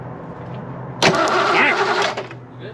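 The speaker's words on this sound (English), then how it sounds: "Crank it over." The engine of a Fox Body Mustang left abandoned for 12 years cranks over once for about a second, the starter churning loud and close after a quiet pause, then cutting off abruptly.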